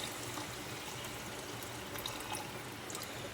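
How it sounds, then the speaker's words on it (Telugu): Water pours steadily into a cooking pot while a cucumber and silver prawn curry is being made, a soft continuous splashing wash that stays fairly quiet and even throughout, with no voices. "మనకు సరిపడా అంత నీళ్ళు పోసుకోవాలి"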